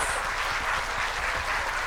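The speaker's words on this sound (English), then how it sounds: "So everyone clap for the, all the parents, students." Steady, dense applause fills an award and certificate ceremony hall as the audience claps for parents and students, loud and continuous with no talk over it.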